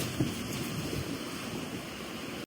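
Sea waves rolling in at Carambola beach in Goa make a steady, unbroken wash of surf, with wind rushing across the microphone throughout and no voices.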